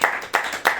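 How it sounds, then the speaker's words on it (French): Three sharp, loud hand claps in quick even succession from a congregation clapping for the Lord at a family worship service, close and distinct. "Allez, applaudissez, applaudissez. Applaudissez le Seigneur."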